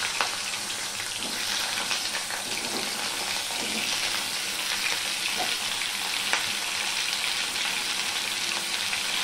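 Potatoes go into hot oil over a nigella seed tempering, a steady dense sizzle holding level throughout with faint scattered pops and no talking.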